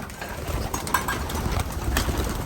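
Birds calling and cooing outdoors against a steady low rumble of background noise, with a few brighter chirps standing out.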